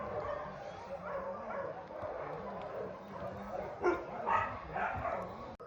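A Yorkshire terrier puppy yips and whimpers in short, faint, uneven bursts, with a louder pair of yaps near the end, against a low indoor background.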